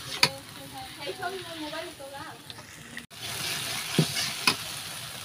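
Oily sizzling and crackle of spices frying in a pan, with scraping stirs and a few sharper pops; faint voices murmur in the background.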